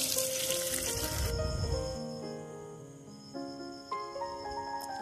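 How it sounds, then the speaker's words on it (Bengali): Papad sizzling in hot oil, a bright crackling fry for the first two seconds that fades as steady tonal music carries on over it. "অ্যান্ড পাঁপড়ও ভেজেছিলাম এখানে"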